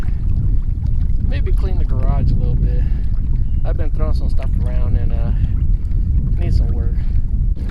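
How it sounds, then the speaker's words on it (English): Strong wind buffeting the microphone in a continuous loud low roar out on the water while kayaking back to shore, with someone speaking over it. "the wind actually starting to pick up"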